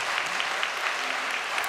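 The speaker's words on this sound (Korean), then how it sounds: "우리 김계정 형님 가정을 위해서 박수 한번 보내겠습니다." Warm applause fills a church gathering, a brief, steady burst of many hands clapping at once, with no speech on top.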